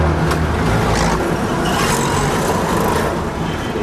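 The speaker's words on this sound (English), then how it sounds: "Traffic outside Shaminhar as we approach Shaminhar Gate. Following a Morris Oxford." Street traffic rumbles outside Shaminhar Gate in India while riding behind a Morris Oxford, a dense steady mix of engines and passing vehicles, fairly loud and close, with no voices.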